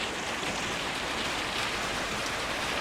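Steady rain falling at night in a city, a dense, even hiss of drops on surfaces that holds at the same loudness throughout, close and unbroken, with no voices.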